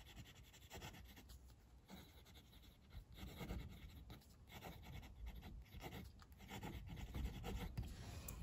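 A Xezo Incognito fountain pen with a black cartridge writes on paper, its nib producing a close, continuous scratchy rasp of strokes with short pauses between words, heard alone.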